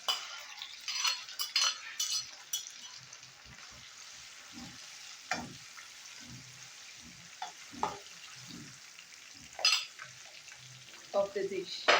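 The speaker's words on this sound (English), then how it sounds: "the essence of frying this meat is to increase the flavor" Meat fries in a pot while yam and unripe plantain are cooked for a plantain and beans pottage, with soft sizzling under scattered clinks and scrapes of a utensil stirring against the pot.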